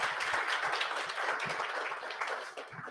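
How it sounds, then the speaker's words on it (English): Dense, continuous applause from an audience at a React and React Native developer meet-up, many hands clapping together at fairly close range and fading slightly toward the end. "can we have a huge round of applause for everybody?"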